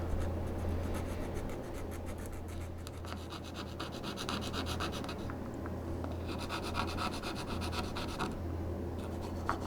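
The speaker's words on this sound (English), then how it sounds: "this file will leave some really rough gouges in this stuff" A hand file rasping across the plastic hood of a Peterbilt 281 model truck kit, making steady, close, continuous scratchy strokes throughout, with a slight change in rhythm partway through.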